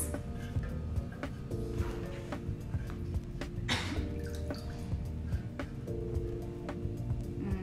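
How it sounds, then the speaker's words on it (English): Oil poured into melted candle wax while making vintage candles, a soft steady liquid trickle with faint drips, close by and fairly quiet over a low background hum, with no talking. "now we're just gonna add our oil to our wax."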